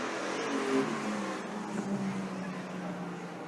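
Street stock race cars running on a dirt oval during heats at a state title meeting: several engines drone and rev at a distance under a commentator's voice, with rising and falling pitch as cars circulate.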